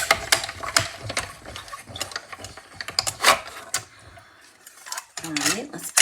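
A manual die-cutting machine is cranked by hand with cutting plates passing through, giving a dense run of ratcheting clicks, clacks and grinding rattles, close and loud, with a short lull before the cranking resumes.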